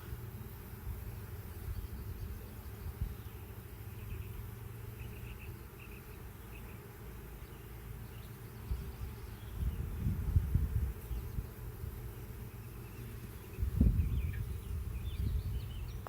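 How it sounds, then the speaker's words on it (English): A steady, low drone of many honeybees buzzing close by around a hive, swelling a little louder now and then, with no talking. "So many bees."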